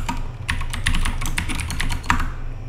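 Quick clicking keystrokes on a computer keyboard, about a dozen taps in an uneven burst while a password is entered during a TrueNAS Scale upgrade, close and clear with no talking.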